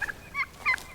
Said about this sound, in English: I want to show you some of our turkeys here.